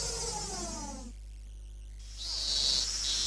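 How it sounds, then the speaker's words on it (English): Cicadas in the horror game Higurashi, a dense high droning chorus that fades out briefly then swells back in loud and steady over a low constant hum. "Fucking cicadas!"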